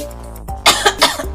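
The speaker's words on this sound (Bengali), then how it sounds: "কাশি তাই না?" A fake cough in a comedy skit, heard as three short harsh bursts in quick succession that stand clear of a soft background, with no talk over them.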